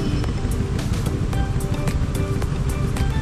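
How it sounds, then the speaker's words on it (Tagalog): Loud motorcycles with booming exhausts ride alongside in heavy evening city traffic on EDSA, heard from an e-bike: a dense, continuous roar of engines and road noise close by, with no speech. "nakakasabay tayo sa motor na mga maingay. Puro bomba."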